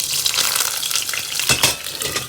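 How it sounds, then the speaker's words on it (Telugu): Dried red chillies fry in a hot kadai, giving a steady close sizzle with crackling bursts and a brief clatter as they hit the pan. "మూకుడు పెట్టిన తర్వాత కొంచెం వేడైన తర్వాత ఇప్పుడు మిరపకాయలు వేస్తున్నాను"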